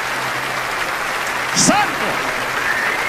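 A church congregation applauds in a steady, sustained wash of clapping while a voice shouts briefly over it partway through.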